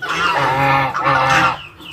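A goose honks loudly and close by in two long, harsh calls beside its nest, with other fowl nearby on a farm.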